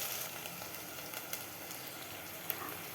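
Okra frying in hot oil for a sambar, a faint, even sizzle and hiss with an occasional tiny pop, steady and unbroken with no talking.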